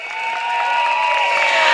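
Crowd at a PAP election rally at a school claps and cheers, a loud, sustained wall of applause that swells slightly as it continues.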